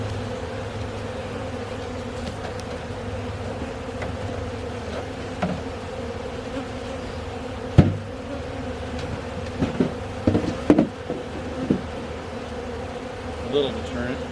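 Honeybees hum steadily around an open hive during a beekeeping club inspection, a constant close drone with occasional clicks and knocks of handling and brief voices over it.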